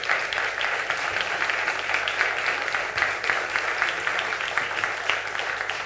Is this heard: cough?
no